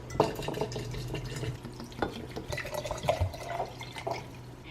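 Organic raw apple cider vinegar is poured into jars, with soft trickling, splashing liquid and a few small clinks, close and moderately quiet.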